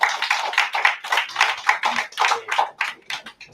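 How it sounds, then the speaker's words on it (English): An audience at a media design presentation applauds its speakers with brisk, close clapping that runs steadily for a few seconds and then thins out toward the end. "Everyone give a round of applause for our speakers for today."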